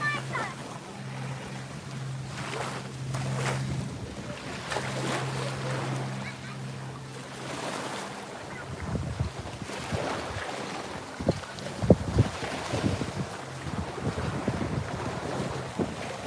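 Rough surf churns and crashes at a beach as a storm moves out, gusty wind buffeting the microphone, with waves breaking repeatedly, loud and close.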